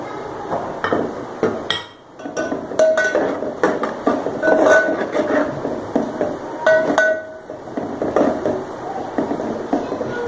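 Whole garam masala spices tipped into a pot of golden-brown onions for chicken biryani and stirred, giving repeated close metallic clinks and scrapes of a spoon against the pot over a steady sizzle, with no talking.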